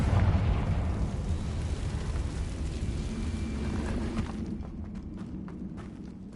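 A fire spell explodes in the video game Hogwarts Legacy, a loud low boom at the start that rolls into a rumbling burn, then fades into lighter crackles and footstep-like taps.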